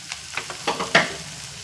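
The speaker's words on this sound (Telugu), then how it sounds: "పాలకూర వేసాక కొంచెం అటు ఇటు కలుపుదాం" Spinach stirred into a half-cooked brinjal curry in a pan: a few quick, close spatula scrapes and soft knocks over a low sizzle, lasting barely two seconds.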